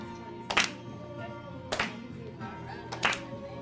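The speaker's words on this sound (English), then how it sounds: "Nice clapping, Jay." Children clap together in three short bursts during a classroom music game, each burst a quick flurry of hand claps spaced about a second apart, fairly close by.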